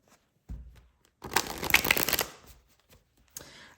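Tarot cards shuffled by hand at close range, a dense riffling burst lasting about a second, set off by a soft tap before it and a lighter handling tap after, with no talk.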